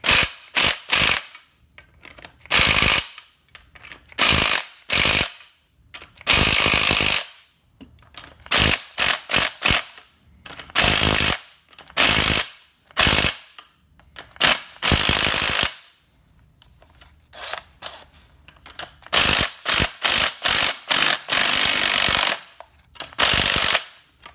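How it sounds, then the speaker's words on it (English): An impact gun works loose a 21mm nut in repeated loud, rattling bursts, each lasting a second or two, with short silent gaps between them and no talking. "We're gonna take our impact gun here and hit this a couple times."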